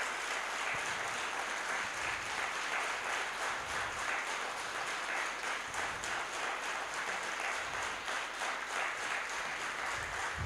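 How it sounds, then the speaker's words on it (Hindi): An indoor audience at a spiritual parenting class claps steadily and loudly throughout, a dense continuous applause with no pauses and no voices over it. "तो तालियों से आप कैसा फील कर रहे हैं वो बताइए।"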